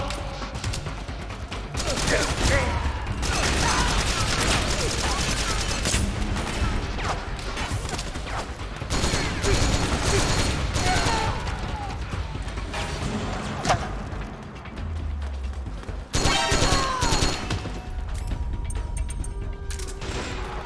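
MK17 rifle gunfire in the Metal Gear Solid 4 video game, dense bursts of shots and impacts that run almost without a break over loud game action, with voices talking at times.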